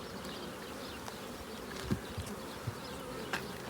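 Honey bees buzz steadily around a hive during beekeeping work, a continuous close insect drone with a few soft knocks and bumps and no talking.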